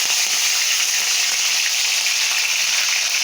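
Curry leaves and green chillies crackle and sizzle in hot oil for a fish curry, a loud, dense, continuous hiss close up with no talking.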